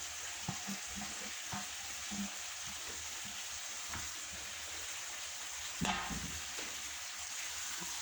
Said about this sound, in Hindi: इसमें डाल के मिक्स कर देते हैं।